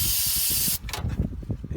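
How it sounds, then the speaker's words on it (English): Brake cleaner hisses loudly and steadily from an aerosol can during work on a 1983 Chevy C10 Silverado steering box, a single burst of about three-quarters of a second that cuts off abruptly before people start talking. "He's spraying, is that brake cleaner?"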